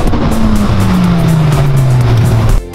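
A Ferrari F12 TDF sports car with a 769-horsepower V12 passes close by, its loud engine note falling steadily in pitch as it goes, then dropping away abruptly.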